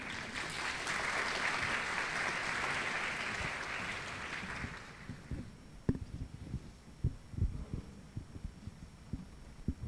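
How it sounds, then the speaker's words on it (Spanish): An audience at a university graduation ceremony claps steadily for about five seconds, then the applause stops and only scattered thumps and knocks follow in a quieter room. "Fuertes aplausos, por favor"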